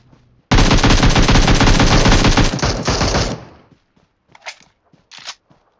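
Loud, sustained automatic gunfire in the mobile game PUBG Mobile, a rapid continuous burst lasting about three seconds, then silence broken by a couple of short faint hisses.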